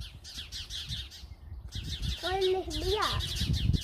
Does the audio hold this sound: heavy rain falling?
no